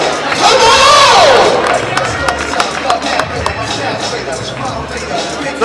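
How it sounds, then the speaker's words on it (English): A crowd roars and cheers at a girls' middle school all-star basketball game, loud and sustained with scattered claps and a whistle-like shout early, over a busy arena background with talking mixed in. "Come on, clap it up for them, y'all."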